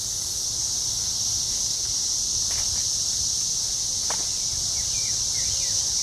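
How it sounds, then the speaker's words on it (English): Cicadas on a farm with cherry trees drone loudly in a continuous, unbroken high-pitched buzz, with faint rustling and a couple of brief bird-like chirps beneath it, no voices. "Right next to it, there's a little cicada hanging out."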